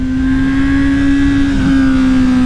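Honda Hornet motorcycle carrying a passenger, its engine holding a steady loud drone at constant speed, close and continuous without talk.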